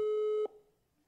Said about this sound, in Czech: A už to pípá, už jede.